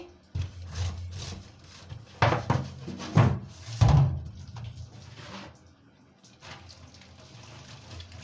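Dishes clatter and clink in a sink with water running, several knocks of plates and pots over a steady splash.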